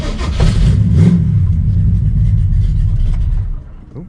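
A 1955 Pontiac with a 327 engine, unmoved for weeks, starts up and revs, a loud close rumbling engine roar that pulses with throttle blips before settling toward idle.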